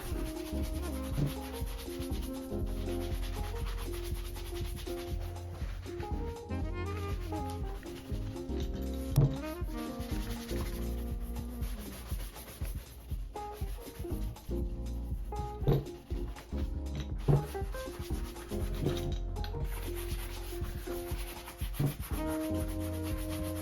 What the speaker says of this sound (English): what you can do is just use a brush and buff that in